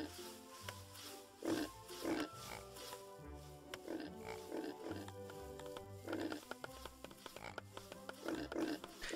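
Pigs oinking in the Micro Town video game, a series of short grunting snorts and squeals repeating every second or so at low volume, with a steady musical background underneath.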